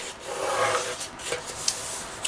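Scored card paper being folded and creased into a box-style envelope, with soft, close rubbing and scraping and a couple of small crisp taps toward the end.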